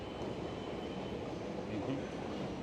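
Millennium Line SkyTrain car in Vancouver, heard from inside as a steady, dense low rumble and rolling hum of the moving train, continuous and fairly quiet throughout.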